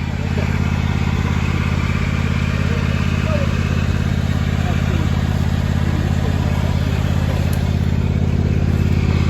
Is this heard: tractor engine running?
yes